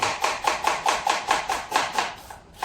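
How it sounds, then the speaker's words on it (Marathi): A knife chops a small onion and tomato on a board, about a dozen crisp evenly spaced cuts, close and clear, slowing at the end. "फोडणीसाठी एक छोटा कांदा आणि छोटा टोमॅटो सुद्धा कट करून घेते"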